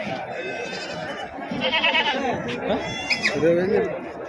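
Goats bleat at the Pebbair livestock market, several short wavering cries close by, rising over steady chatter and people talking.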